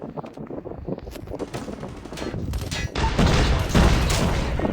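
Video game gunfire rattles in dense, continuous volleys with booms mixed in, growing louder toward the end and nearly filling the soundscape.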